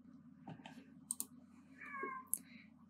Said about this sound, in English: I apologize if you hear my cat